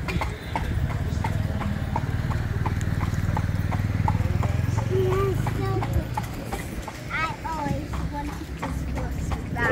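Horse hooves clip-clop in a steady, even rhythm as a horse draws a carriage through Tsilivi on Zakynthos, Greece, with rumbling road and engine noise underneath and people talking over the hoofbeats.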